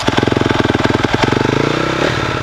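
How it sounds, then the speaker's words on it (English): A dirt bike engine catches after being kick-started, firing in a fast, even putter that is loud and close, then revs briefly before settling. "with a few kicks, we can start this up"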